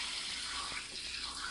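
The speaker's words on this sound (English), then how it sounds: "put the whole thing under the water." Steady tap water pouring under a kitchen faucet over raw chicken in a colander, a continuous loud rushing splash with no pauses.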